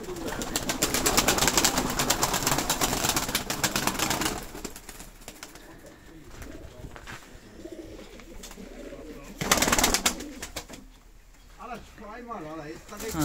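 Gyumri fighting pigeons coo softly amid rustling and wing flutters, with bursts of nearby noise and occasional voices in the background.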